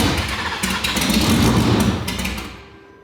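A 2019 Roush Stage 3 Mustang, its engine previously blown, cranks and fires up with a loud, rough, choppy idle close by that fades toward the end.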